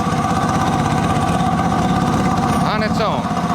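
A 1980 Kawasaki KZ750 motorcycle engine idles nearby with a steady, even putter, a brief voice cutting in near the end.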